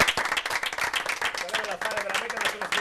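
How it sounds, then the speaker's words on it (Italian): A studio audience on an Italian television variety show claps steadily throughout, dense and continuous, with a voice speaking over the applause. "Ancora un applauso a Laura perché"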